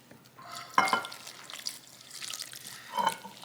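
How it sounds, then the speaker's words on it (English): Saltfish fritter batter is stirred with an egg in a bowl, producing soft wet squelches and a few sharper clinks of utensil against bowl, close and fairly quiet. "And then I'm going to start mixing."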